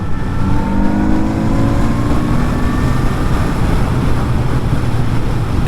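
A 2022 Kawasaki Z900RS motorcycle engine pulls hard while overtaking, its steady loud drone rising in pitch over several seconds, with broad wind and road roar beneath it and no voices.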